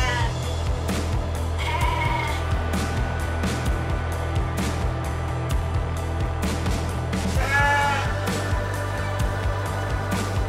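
Sheep bleat repeatedly at a newly built livestock farm in the desert, several calls rising over a steady low rumble of machinery and general pen noise, with no talk.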